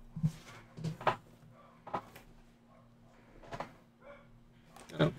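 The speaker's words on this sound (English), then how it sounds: "Dogs are barking." Dogs bark indoors in short, separate bursts spread across the stretch, moderately loud and a little distant, with quieter gaps between barks while a mail carrier arrives.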